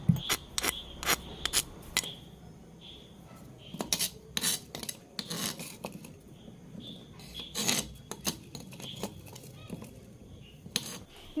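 Ginger and garlic being crushed for homemade mango pickle, heard as irregular close scraping, grinding and knocking strikes of varying loudness, with no talking over them.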